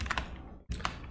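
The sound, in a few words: typing on a computer keyboard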